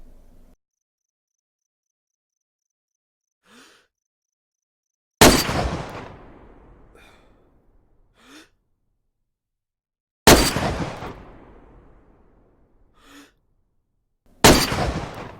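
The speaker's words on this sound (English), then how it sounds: "There is only a plastic bottle suppressor, so let's just listen to the noise this weapon makes." A sniper rifle fitted with a plastic bottle suppressor fires three loud, sharp shots in the DayZ video game, each spaced several seconds apart with a decaying tail, and faint insect-like chirps sound between them.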